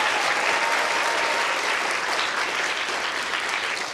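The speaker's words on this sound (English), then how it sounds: "A wonderful round of applause for Thank you Carly" A lecture-hall audience at a science Christmas lecture gives a steady, full round of applause, dense clapping holding evenly for several seconds before easing slightly at the end.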